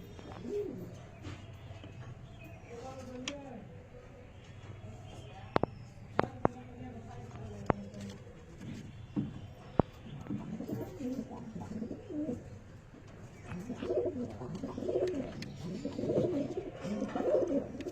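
Andha pigeons coo in soft, repeated rolling calls at close range, getting busier and louder toward the end, with occasional sharp clicks and some faint voice in the background.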